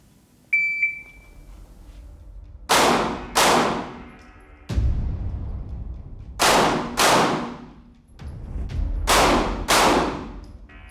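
Gunshots ring out during close quarters shooting training, loud close reports in quick pairs and clusters with echoing tails, preceded by a short electronic start beep.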